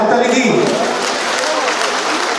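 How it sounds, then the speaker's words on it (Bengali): Audience applauding in a hall at a Metropolitan Police Commissionerate ceremony, a loud, dense wash of clapping that runs steadily throughout while a voice speaks over it at the start. "এই আনন্দের মুহূর্তে আমরা একটা জোরে সকলে মিলে হাততালি দিই।"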